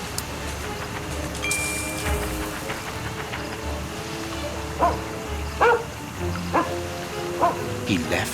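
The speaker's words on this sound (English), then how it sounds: "Good dog, Toby." Toby the dog in a Sherlock Holmes video game gives several short, mid-distance barks and yips in the later half, over a low ambient background with a voice speaking.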